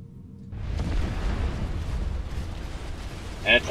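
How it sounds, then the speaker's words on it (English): Artillery fire lands in the real-time strategy game Supreme Commander 2 as a dense, rumbling barrage of booms that swells and holds, with a brief sharper burst near the end. "You're already getting hit by artillery."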